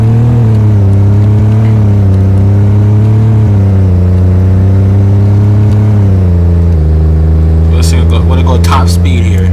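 A Mercedes CLA250 accelerates hard toward top speed, its engine note a loud, steady drone that climbs in pitch between gear shifts, heard from inside the car, with wind and road noise building and a few clicks near the end.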